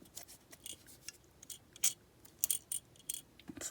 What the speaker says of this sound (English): It's the coupler, that's what's rattling around.